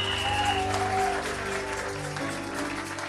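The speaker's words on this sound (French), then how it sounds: "Acclamons le Seigneur." Church congregation clapping together, a steady dense wash of applause filling the space, with a sustained tone and faint voices mixed in.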